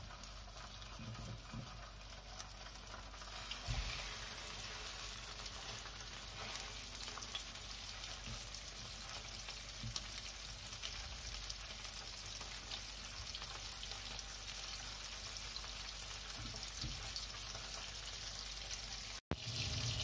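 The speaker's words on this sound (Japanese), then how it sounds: "フライパンに油を引いてニシンを焼きます。" Herring fries in oil in a frying pan, a steady dense sizzle and crackle running continuously and fairly quietly, close up with no talking.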